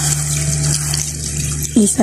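Water is poured into a pot of chicken tinola soup, making a steady hissing rush over a low kitchen hum. A brief voice-like sound breaks in near the end.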